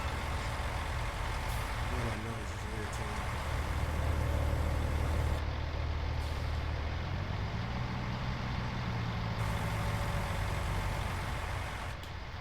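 Truck in Farming Simulator 19, a loud, steady diesel engine drone with low rumble that swells slightly midway and shifts pitch as it runs.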